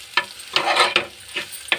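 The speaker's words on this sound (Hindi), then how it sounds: "इसको एक मिनट के लिए और इसी तरीके से चलाते रहेंगे।" A spoon stirs anda bhurji made with grated boiled egg sizzling in a pan, giving five quick scraping strokes over a soft continuous frying hiss, close and alone.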